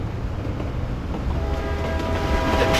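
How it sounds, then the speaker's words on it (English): Train rumbling steadily in a military shooter video game, a low continuous rolling drone with faint rail clatter and a rising horn-like tone near the end, fairly loud and with no talk. "The train's still running."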